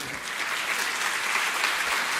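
An audience claps in dense, steady applause for a girl named Sofi who has just turned fifteen, a continuous close wash of hands with no break over the short stretch.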